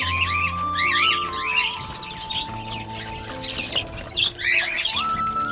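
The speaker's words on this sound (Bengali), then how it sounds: "কবুতরগুলো খুবই সুন্দর, হাতে এসে খায়, গায়ে পড়ে, ভালোই লাগে।" Many pigeons chirp and call in quick overlapping bursts, fairly close, with a steady faint tone running underneath.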